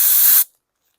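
A short, loud hiss of compressed air blowing out a 2019 Troy-Bilt TB400-XP lawn mower carburetor cuts off abruptly into silence.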